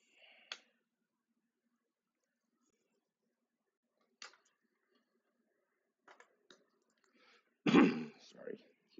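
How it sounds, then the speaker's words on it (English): A few scattered, close coughs and throat clearings break a quiet room, with one louder cough near the end. "Sorry, keep coughing."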